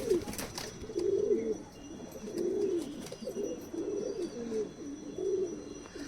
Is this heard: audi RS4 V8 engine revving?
no